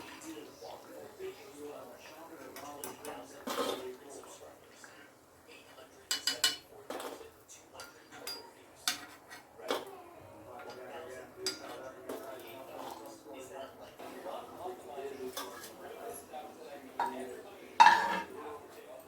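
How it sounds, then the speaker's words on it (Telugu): Fried banana bajjis set onto a plate, with scattered clinks and taps of utensils and dishware, the strongest clatter near the end, while a person talks throughout. "ఇవి కూడా ఒక ప్లేట్లోకి తీసుకుంటాను"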